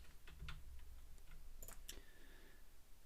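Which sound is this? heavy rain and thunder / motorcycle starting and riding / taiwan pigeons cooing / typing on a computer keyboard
typing on a computer keyboard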